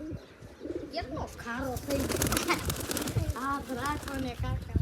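Pigeons coo softly in repeated rounded calls, with some wing flutter, while people talk close by over them.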